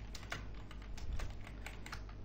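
Steady, rapid typing on a computer keyboard while a network switch hostname is entered in a configuration session, dense clicking throughout with a faint low hum underneath.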